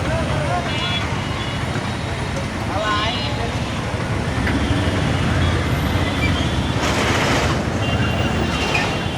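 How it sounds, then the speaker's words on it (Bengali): Steady, congested road traffic at a broken-road junction in rural Bangladesh: a constant roar of engines and tyres close by, with a couple of short horn toots rising above the din. "এই জায়গাটা তো জ্যাম আছেই।"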